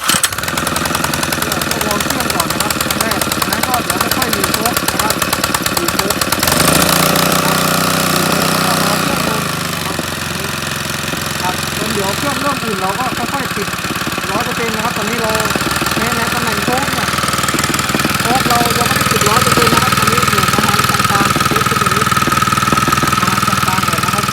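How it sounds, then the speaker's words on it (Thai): A cold Arnold PA300 water pump engine runs and is revved by hand, giving a loud, steady, rattling mechanical clatter that shifts in tone partway through and holds close throughout. "อันนี้ใช้วิธีเร่งเครื่องช่วยนะครับ"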